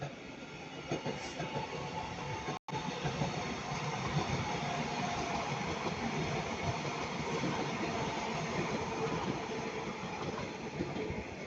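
Northern and CrossCountry trains pass each other at Ardwick near Manchester, a loud continuous roar and rattle of wheels on track sustained throughout with no talk.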